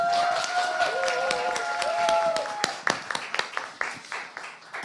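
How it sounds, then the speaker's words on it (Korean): A church congregation applauds a deacon during an environment-themed worship service, with brisk clapping over murmured voices that thins toward the end into a few distinct, separate claps. "박수."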